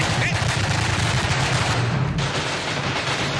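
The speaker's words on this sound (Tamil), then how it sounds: "ஐயோ எப்படி வெடிக்குது பாருங்க." A loud, dense string of firecrackers bursts nonstop in rapid crackling pops during a scene from a Tamil television serial, with voices partly buried beneath the din.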